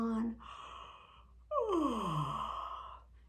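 A long, breathy yawn. The voice slides downward in pitch and trails off, and it comes after a brief sigh-like breath in a quiet room.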